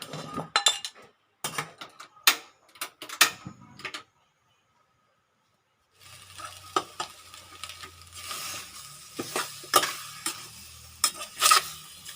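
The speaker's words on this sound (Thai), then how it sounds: "เราก็จะเอาลงมาผัดนี่นะคะ ผัดกับน้ำเปล่านะคะ" Catfish stir-fried with plain water in a pot for a Thai fermented-fish curry, with clinking utensil scrapes and stirring bursts, a silent gap, then a steady low sizzle under repeated spatula knocks against the pot.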